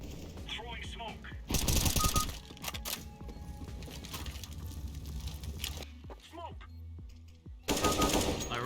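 Bursts of gunfire in Counter-Strike: Global Offensive, with loud rapid automatic volleys near the start and end and scattered single shots between them, all under in-game ambience and some talk.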